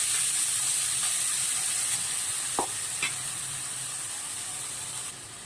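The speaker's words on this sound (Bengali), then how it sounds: "পেঁয়াজটা আগে ভালো মতো ভেজে নেব" Onions sizzle steadily in hot oil while cooking a rohu fish curry, with a continuous bright hiss, broken by a couple of soft clinks from stirring.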